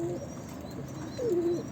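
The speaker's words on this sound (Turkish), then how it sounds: "Kuşlar da korktu." Soft pigeon-like cooing, two short low calls separated by a pause, fairly close over faint background hiss.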